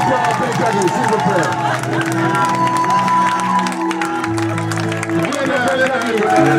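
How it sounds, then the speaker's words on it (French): An audience claps and cheers loudly for a school music group while music plays over the crowd, a continuous, energetic mix of applause, shouts and instruments. "Voilà, un applaudissement pour le groupe Benkadi, s'il vous plaît."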